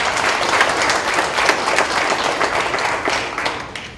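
A school board meeting audience applauds a student honored for placing ninth in the senior division, dense steady clapping filling the room at a fairly loud, even level.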